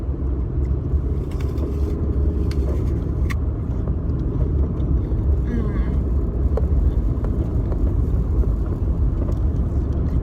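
Car driving around a curve on a road: a steady, loud low engine and road rumble runs continuously throughout, with a few faint clicks and knocks on top and a sense of someone talking beneath it.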